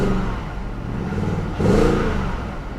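A BMW with an engine malfunction warning and a possible bad coil, its engine idling steadily and then revving up briefly when given gas, close and loud, with no talking.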